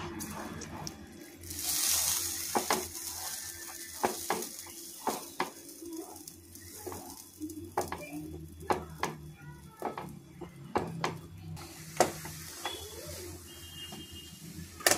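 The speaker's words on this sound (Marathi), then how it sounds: "आता पीठ घालून घेऊया आपण। या पद्धतीनं असं हलवत राहायचं" Flour is stirred into boiling water in a pot, with soft scraping and sticky stirring strokes that come in irregular bursts, close and fairly quiet, over a faint background hiss.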